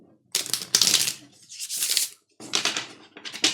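Tarot cards being shuffled by hand, coming as several dense riffling bursts separated by brief pauses, close and fairly loud with no talking.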